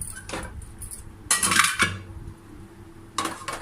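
Clanking metal knocks as a wok is set down on a stove, a sharp clatter followed by a couple more clinks, close by in a quiet room.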